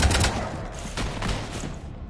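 Gunfire in Mass Effect 3, a dense burst of rapid shots with heavy low thuds, loud and close at first and then continuing as a sustained rattle with no talking.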